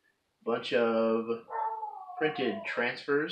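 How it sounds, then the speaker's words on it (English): Dogs bark and howl in the background, a drawn-out wail rising between bursts of speech as a person talks close to the microphone. "You'll have to excuse the dogs barking in the background."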